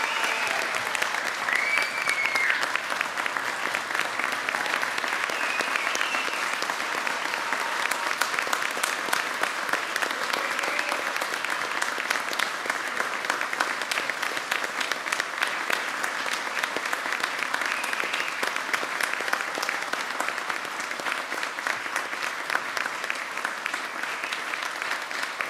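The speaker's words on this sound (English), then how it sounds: "Please join me in a round of applause for the newest and most junior lieutenants in the United States" Sustained applause from a crowd at a spring Army ROTC commissioning ceremony for newly commissioned lieutenants, a dense steady roar of many hands clapping that holds at an even level throughout, moderately distant.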